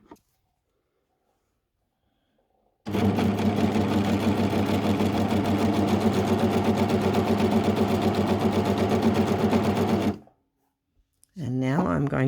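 A sewing machine runs for about seven seconds in one steady, even buzzing burst, starting and stopping abruptly, with quiet before and after and a voice beginning to speak at the very end.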